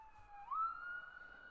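A police siren in the hunting game theHunter: Call of the Wild, heard faint and distant as a single tone that rises sharply in pitch and then holds steady.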